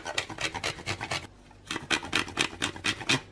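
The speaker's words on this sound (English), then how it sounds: "Now I'm going to use a microplane grater and grate a row or two of chocolate over." Chocolate grated with a microplane grater for a keto chocolate mousse, a soft rhythmic rasping of quick close strokes, pausing briefly midway before resuming, fairly quiet.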